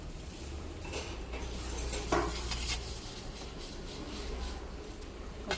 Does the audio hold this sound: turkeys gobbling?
no